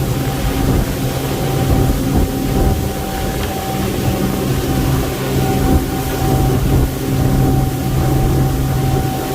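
A Tiara 38 LS motorboat runs on a test drive, a steady low engine drone with water and wind noise, continuous and close without talk.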